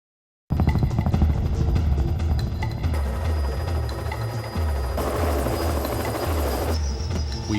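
A helicopter landing on a road at a forest-fire line, its rotor and turbine making a loud, steady, close thrum that fills the whole clip with a rhythmic beat.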